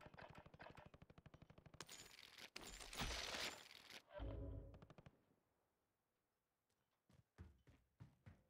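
Light machine gun fire in a Call of Duty match, a fast loud burst of rapid shots for about five seconds, then quieter scattered shots and thuds with no talking.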